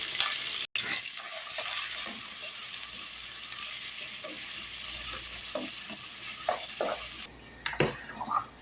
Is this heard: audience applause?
no